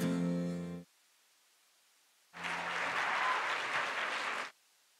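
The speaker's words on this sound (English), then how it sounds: "Let's give them a round of applause." Audience at a Project Goodwill event breaks into a burst of applause lasting about two seconds, dense and close, following a short stretch of speech and ending in near silence.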